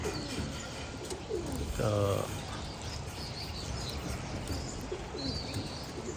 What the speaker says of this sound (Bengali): খুবই সুন্দর একটা কবুতর।